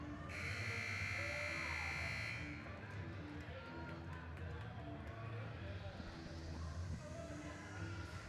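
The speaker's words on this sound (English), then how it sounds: "So the buzzer sounds on Pam Newberry's timeout" A sustained electronic timeout buzzer drones for about two seconds over loud crowd noise at a college volleyball match in a gym, then the crowd murmur continues.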